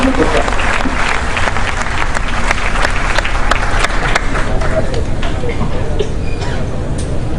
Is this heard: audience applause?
yes